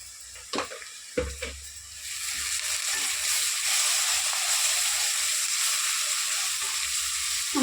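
Ginger paste and turmeric fry in a pan with a steady, close sizzle. A few sharp clatters of a spoon come early, then the hiss carries on evenly, with no voices.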